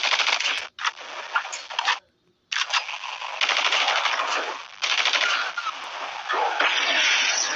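Rapid automatic gunfire rattles in long, dense bursts with a few short breaks, mowing down zombies in the Call of Duty Zombies video game; loud and close, with no talking.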